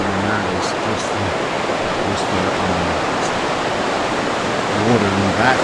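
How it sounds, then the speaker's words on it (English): Ocean waves rolling and crashing along the shore at Cayman Brac: a loud, constant broadband roar of surf, close and steady, with a voice faintly present underneath at moments. "Hear the waves crashing, that irritating noise."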